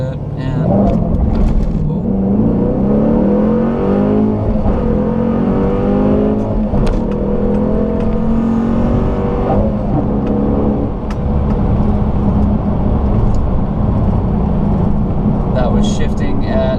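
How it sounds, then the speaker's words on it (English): A car with a new cam and 400 rear-wheel horsepower launches from a stall and accelerates hard, its engine roaring loudly and climbing in pitch through repeated rising revs, close and continuous. "So let's get a reaction of what that 400 horsepower feels like to launch."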